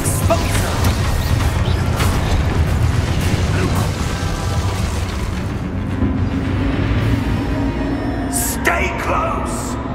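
Spell explosions from the Expulsor charm in the video game Hogwarts Legacy, loud dense blasts and crashing bursts over a continuous busy battle din, with sharp bright impacts near the end.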